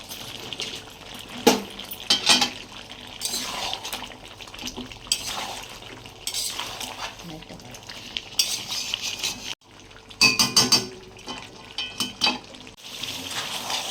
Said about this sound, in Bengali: মাংসটাকে কষাবো। এবার দিয়ে দেবো টমেটো কুচি।